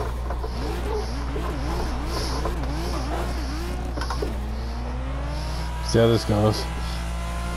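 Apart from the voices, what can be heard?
turbocharged car engine accelerating in the video game Assetto Corsa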